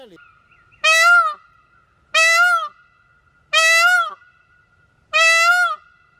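Peacock calling in a yard: four loud, nasal, wailing cries spaced about a second apart, each a harsh rising-falling honk, close to the microphone with silence between them.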